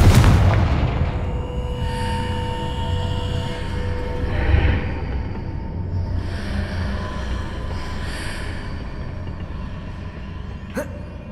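A Confringo fire spell blast in Hogwarts Legacy goes off with a heavy boom up front, then a long low rumble and lingering crackle with a sharp hit near the end.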